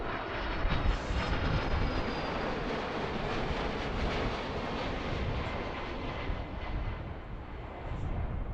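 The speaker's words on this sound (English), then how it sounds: "It's our second UPS arrival of the day." A UPS cargo plane arrives at Philadelphia airport, its engine roar a broad steady rumble heard from a distance, holding level throughout with a slight dip near the end.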